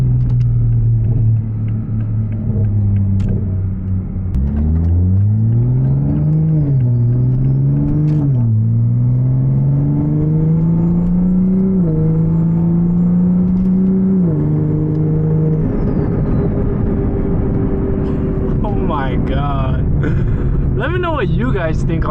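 A car engine fitted with a T51R turbo mod revs in rising and falling pitch sweeps over a deep rumble, with turbo whine and whooshing toward the end, and a voice talks over it.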